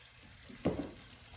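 A single soft clatter and brief faint sizzle as garlic cloves drop into a hot oiled pan, then quiet low background hiss.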